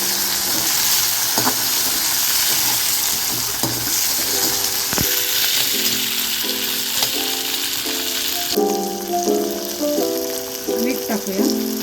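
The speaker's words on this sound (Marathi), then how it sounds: "कांदा टाकूया, शिमला मिरची टाकूया, चांगले हलवून घेऊया." Onion and capsicum frying in a pan for paneer manchurian, a loud steady sizzle with repeated scraping and clinking strokes of stirring, growing busier toward the end.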